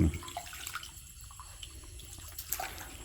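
A pet dog drinking stream water scooped out for it by hand, with soft splashes and drips close by, a louder splash at the start and another near the end, and no talking.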